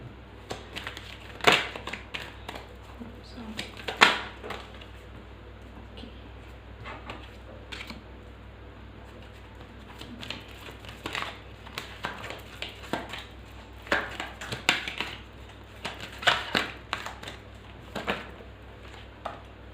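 Tarot cards are gathered up and shuffled, with irregular bursts of papery riffling, tapping and sliding over a quiet low hum, some clusters of quick flicks and pauses between them.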